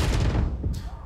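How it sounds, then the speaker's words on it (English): Gunfire in the video game Valorant during an esports championship match, a quick volley of muffled booming shots over about a second, with a caster's voice in the mix. "we're gonna get some gunfire from Stormtroop."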